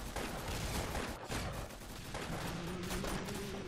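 Rapid bursts of carbine gunfire crackle nearly continuously in a dense, noisy stream in the video game Arsenal.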